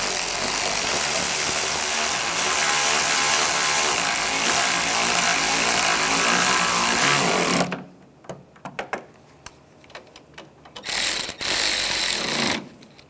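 Power tool driving screws into a fender bracket on a 2011-2018 Ram 1500, running loud and steady for about eight seconds, then short bursts and ratcheting clicks.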